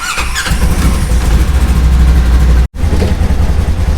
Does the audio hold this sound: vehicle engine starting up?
yes